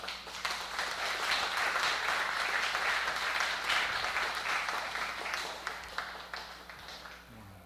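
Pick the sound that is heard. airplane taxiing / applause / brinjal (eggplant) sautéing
applause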